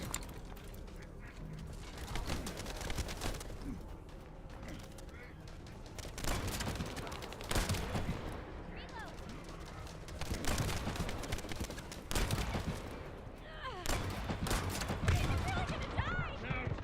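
Gunfire in the shooter game The First Descendant, rapid bursts of automatic fire and single sharp shots packed closely together, loud and sustained, with quacking, duck-like game sounds and occasional talk mixed in.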